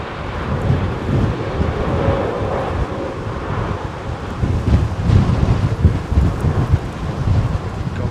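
Strong wind gusting hard against the microphone at Heathrow Airport, a loud continuous low roar that swells and buffets throughout, with no talking.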